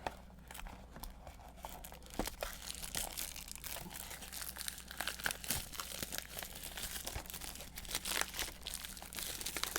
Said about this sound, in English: I've heard that this crinkling plastic noise is a thing that people like